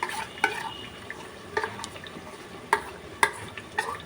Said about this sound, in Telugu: పేస్ట్ మొత్తం వేసేసిన తర్వాత ఒకసారి కలుపుకుందామండి.